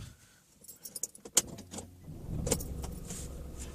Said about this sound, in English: That engine start is strange straight off